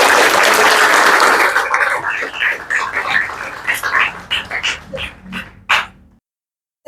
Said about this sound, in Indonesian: Oke, tepuk tangan di mana?